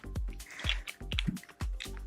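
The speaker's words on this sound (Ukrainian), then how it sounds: "Це вода, яка йде на злив каналізації." Water from a reverse osmosis filter's drain line dripping into a sewer drain, a series of distinct wet drips and splashes at an uneven pace, close and clear with no talk.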